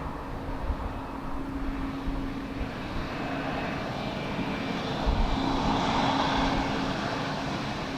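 Airliner on approach to land at Dublin Airport in a crosswind, a steady broadband engine roar with a faint droning tone, swelling slightly louder toward the end, with no talk.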